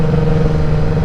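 A green 2016 Kawasaki ZX10 Racing Team Edition sportbike fitted with a full Graves exhaust, carbon fiber can and headers gives a loud, steady, close engine drone with a strong low hum for a brief moment, with no talk.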